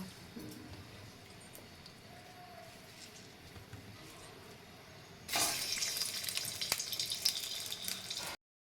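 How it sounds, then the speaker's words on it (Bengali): Soya chunks frying in oil in a kadai: a soft background hiss gives way halfway through to a loud, steady crackling sizzle that runs on until an abrupt cut. "আমি কড়াতে একটু তেল দিয়ে দিলাম, এবারে সয়াবিনগুলো একটু ভেজে তুলে নেব।"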